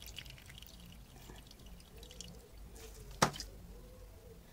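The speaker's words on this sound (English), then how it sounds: "I pour this water in there." Compost water is poured into a container for growing watercress, giving a faint, soft trickle and drips with one sharp splash partway through, quiet and close.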